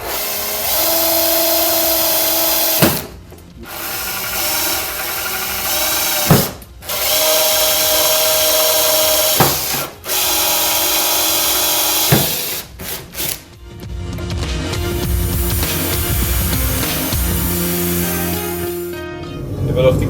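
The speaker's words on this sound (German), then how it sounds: "ich habe mir da jetzt ein Raster aufgezeichnet, wo ich die 4 Löcher bohren werde" A power drill bores four holes along a marked grid in a workpiece that will have struts fitted beneath it. It gives loud, close whining runs separated by brief pauses, and the last run is rougher and grinding.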